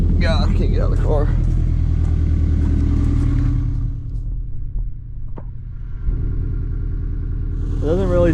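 Car fitted with an Injen intake idles with a steady low rumble, with a brief blip of revving near the start and end, heard close and fairly loud.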